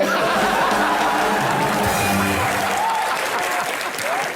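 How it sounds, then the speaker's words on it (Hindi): A studio audience on a Hindi TV comedy show claps loudly and steadily for several seconds, with scattered laughter and chatter mixed into the applause. "ठोको ताली।"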